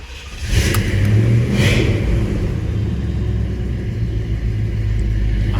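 A cold blue box Chevy car engine warms up, rising into a deep, steady rumbling idle that stays loud and close throughout.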